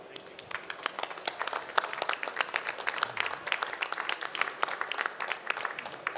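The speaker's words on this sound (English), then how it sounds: "Please, once again, give our finalists an applause." An audience applauds finalists at a robotics innovation award ceremony, with steady, dense clapping throughout that stays fairly even and moderately loud.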